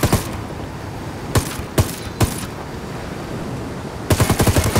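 Gunfire in Ghost Recon Wildlands: a quick opening burst, then three spaced single shots, and a final rapid burst at the end, loud over a steady background rumble.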